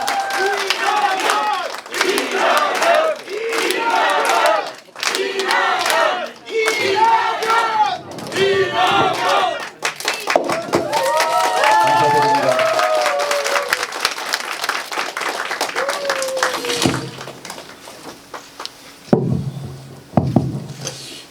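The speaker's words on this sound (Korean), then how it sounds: "뜨거운 박수로 환영해 주시기 바랍니다" A crowd at a political party's provincial launch convention applauds and cheers loudly and steadily, the clapping swelling and carrying on for a long stretch with voices mixed in.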